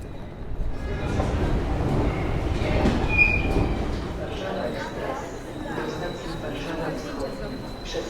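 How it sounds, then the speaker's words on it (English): A train rumbles through a railway station in Poznań with a long rolling roar and a brief high wheel squeal, echoing as if under a station roof; faint talk blends in. "this is the train station"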